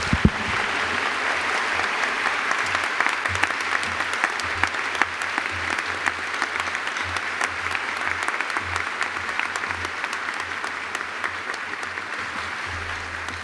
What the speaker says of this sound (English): can we have another round of applause for Dr. Opara, please?